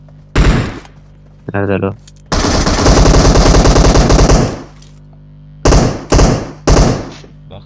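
Automatic gunfire from PUBG Mobile rattles in loud rapid bursts, one long sustained stream followed by several short volleys, close and prominent while players talk in between.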